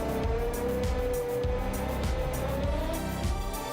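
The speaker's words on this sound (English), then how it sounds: "And we need to start the engine." Diesel locomotive engine starting up in the Run 8 train simulator game, a steady loud mechanical rumble with a rising whine, continuous throughout with no talking.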